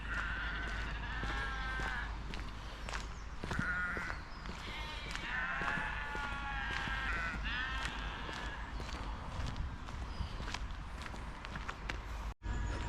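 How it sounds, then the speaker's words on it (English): Sheep bleat repeatedly in a green countryside field on a busy morning, several calls overlapping at moderate distance, with footsteps on grass and a steady outdoor background throughout. "Let's go and say hello to the sheep. Very noisy this morning,"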